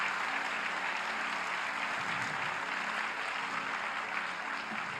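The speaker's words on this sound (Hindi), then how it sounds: "थोड़ी तालियां तो बजाइए, जोर से बजाइए" A religious discourse audience applauds in a steady, dense wash of clapping that holds at an even level from start to finish, with no voices over it.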